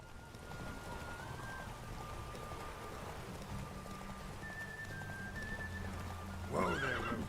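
Roach, a horse in the Witcher 3 video game, lets out a loud whinnying neigh near the end, after a stretch of hoof clip-clop and steady rain with faint musical tones.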